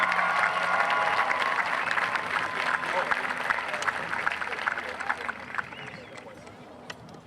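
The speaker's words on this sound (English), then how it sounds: "That's all I get? Golf claps?" Audience applause at a graduation ceremony right after a speaker is introduced, a steady wash of clapping from a crowd that holds throughout and thins slightly toward the end, with faint voices mixed in.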